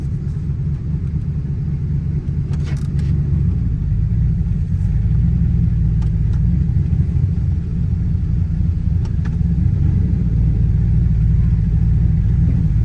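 A Chevrolet Silverado truck with a 4L60 transmission drives along, its steady low engine rumble and road noise continuous and loud throughout, with no talk.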